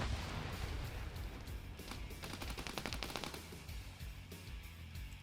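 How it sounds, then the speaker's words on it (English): Rapid bursts of gunfire from a multiplayer PvP shooter game rattle in the distance, a dense crackling fusillade under steady background noise. "do you hear those gunshots?"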